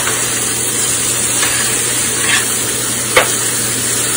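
Ribeye steak frying in a pan, a steady loud sizzle with brief crackles and a sharp clink near the end, close to the pan with no talking.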